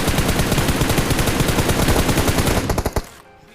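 Rapid automatic gunfire from a mobile shooting video game rattles on loud and dense without a break, then thins to a few separate shots before cutting off into quiet.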